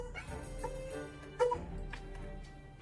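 Dogs in another room yap and bark in short, muffled bursts, with one sharper yelp standing out midway, all fairly quiet and distant.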